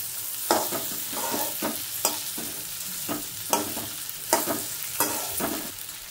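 A spoon stirs okra and potato curry in a pan, scraping at a steady rhythm of about one stroke a second over a soft sizzle of frying. The sound is close and moderate, with no talking.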